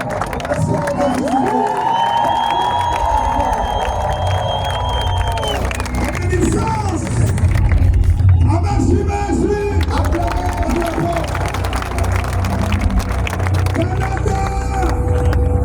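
Large crowd at a Kanguka gathering in Bujumbura, Burundi cheering and acclaiming loudly and steadily, with a dense wash of shouting voices and babble running throughout, swelling slightly in the middle.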